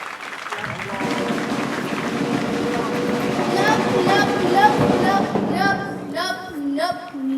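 Light audience applause ripples through a talent-show crowd, a steady wash of clapping that carries under a speaking voice throughout.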